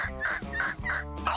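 A person mimics a turkey with a rapid, warbling gobble, several quick throaty pulses in a row, close and fairly loud.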